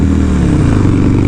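A Harley-Davidson FXR motorcycle engine rumbles loud and steady at close range, a deep continuous drone with a throbbing low-end pulse and no voices over it.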